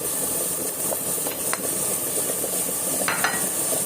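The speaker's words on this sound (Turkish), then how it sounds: "Güzelce pateliyorum." Green and red peppers sautéing in oil for an okra stew, a steady close sizzle and hiss in the pan with occasional light stirring clicks.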